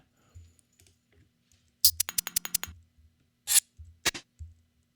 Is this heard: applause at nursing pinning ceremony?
no